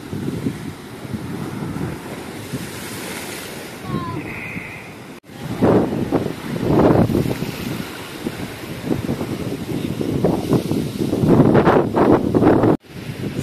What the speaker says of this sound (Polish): Ale tam już dopiero wiatr.